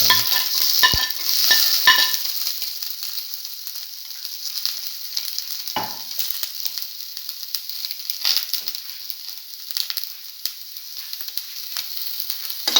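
Garlic frying in a hot pan for a cinnamon garlic mashed potato stir fry, a steady loud sizzle with occasional scraping stirs and clinks throughout.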